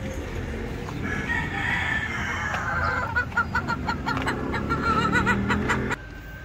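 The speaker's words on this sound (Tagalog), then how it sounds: "Manok sa aking kaibigan" Chickens cluck in a busy run of short, repeated calls, fairly close and loud, with a crow-like call mixed in and no talking.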